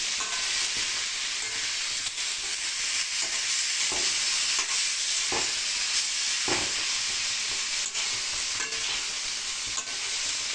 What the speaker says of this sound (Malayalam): ഒന്ന് ഇങ്ങനെ ഇളക്കി വഴറ്റുന്നത് നല്ലോണം ഒന്ന് മൂടി വെച്ചിട്ട് ചെയ്യുവാണെങ്കിൽ കുറച്ച് കഴിയുമ്പോൾ നമുക്ക് നല്ലോണം വഴന്ന് കിട്ടും